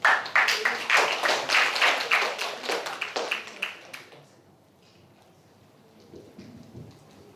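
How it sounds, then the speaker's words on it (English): Audience applause in a lecture hall welcoming a guest lecturer, a burst of dense clapping for about four seconds that then fades out to quiet room tone. "Please give her a warm applause."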